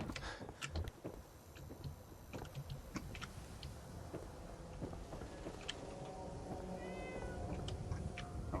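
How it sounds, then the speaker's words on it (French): Cat meowing in the Fallout 4 video game, a quiet, distant meow and a few short cries heard over faint keyboard taps and scattered clicks in a low background. "J'ai entendu un chat."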